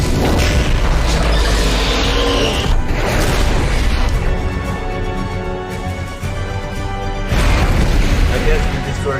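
The Destroyer exploding when struck by its own beam in the Thor (2011) movie, a heavy booming blast with crashing, rumbling debris that fades, then another loud burst swells in near the end, under some reaction voices.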